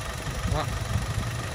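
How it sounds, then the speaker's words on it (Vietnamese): A D-segment luxury car engine idles just after starting with a steady, low mechanical rumble, close by, while a voice speaks briefly over it. "Máy đã nổ lên rồi và bây giờ mời các bác cùng nghe. Cùng nghe tiếng máy nổ này."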